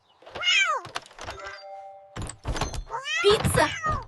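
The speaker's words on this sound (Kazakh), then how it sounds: "Мысық." A cartoon cat meows several times, bright sliding cries mixed with thumps and short voice-like bits, close and loud.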